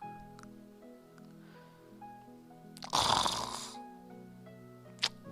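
A character in the adventure game Loom snores, one long loud breathy snore mid-clip over soft game music, with a brief sharp sound near the end.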